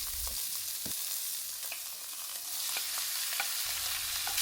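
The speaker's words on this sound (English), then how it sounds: "Once the meat is beautifully sauteed on medium heat" Meat sautés in a pan on medium heat for kavurma, giving off a continuous close sizzle. A few crisp clicks of stirring cut through, and no voices can be heard.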